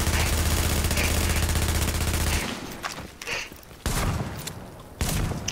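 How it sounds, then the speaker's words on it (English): Enemy gunfire in a video game: a sustained, loud fusillade of rapid automatic shots for about two seconds, followed by scattered bursts and single cracks, close and dominant, with a brief voice underneath. "Oh, he's shooting."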